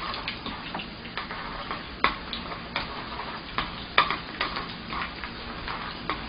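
Shredded pork is stirred and fried in a wok over low heat, a soft steady sizzle broken by repeated light clicks and taps of a utensil against the pan, close and fairly quiet, with no voices.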